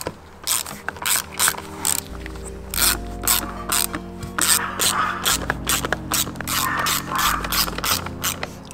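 Ratchet tightening T25 screws on an aftermarket yoke steering wheel in a Tesla Model Y/3, with rapid repeated clicking bursts and short pauses, close and clear throughout with no talk.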